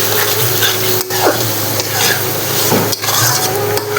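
Chili powder and a little black pepper powder being mixed into a spice mixture for stuffed chicken potol, a steady scraping stir with faint sizzling and a couple of sharp utensil knocks, close and continuous.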